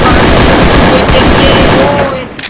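Rapid continuous gunfire in a Free Fire tournament match, loud dense bursts filling the whole span and tapering slightly at the end, with a faint voice underneath.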